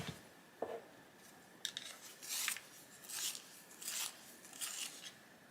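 A leaf green colored pencil is sharpened in several short, soft scraping bursts with brief pauses between them, close and quiet.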